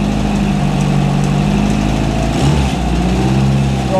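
A Volkswagen engine powering a mobile dimension sawmill runs steadily near at close range, its RPM coming up under governor control, with a constant droning hum and a slight shift partway through; nobody talks.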